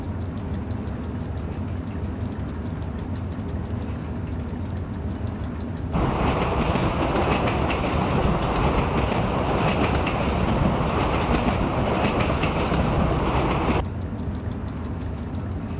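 An EU07 electric locomotive hauling a TLK passenger train in the Open Rails simulator rolls steadily along the rails near Poznań, a dense loud rumble that swells suddenly at about six seconds and drops back near fourteen.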